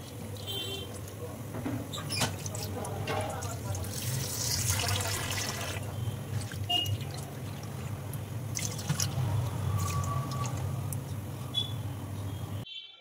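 Peeled prawns rinsed by hand under running tap water in a sink, a steady wash of flowing, splashing water with small drips and handling noises throughout, fairly close.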